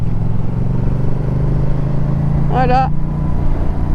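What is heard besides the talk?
Yamaha MT07 2019 motorcycle engine while riding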